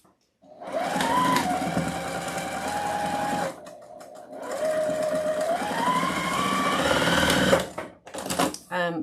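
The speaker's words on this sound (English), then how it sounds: "And then you would just sew all the way across this." A sewing machine runs in close, loud bursts as it stitches fabric for a Halloween witch wreath attachment. Its motor whine rises and falls in pitch, there is a brief pause midway, and it ends with a few short stops and starts.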